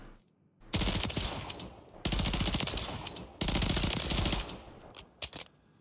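Automatic gunfire in a shooter game: three long, loud bursts of rapid rounds separated by brief pauses, ending with a couple of short trailing shots, close and without talk.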